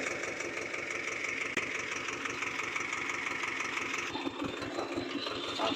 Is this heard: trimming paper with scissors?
no